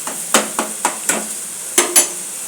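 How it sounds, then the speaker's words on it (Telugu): Chicken and ridge gourd curry frying in green chili masala, stirred with a ladle that scrapes the pan in about six sharp, separate strokes over a soft sizzle, close and loud. "బాగా ఇట్లా ఫ్రై చేసుకుంటే"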